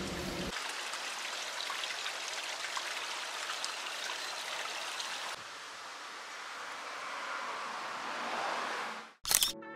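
Water flows and trickles in a quiet backyard garden, a steady soft broadband rush that dips midway and fades out before a brief clatter at the end.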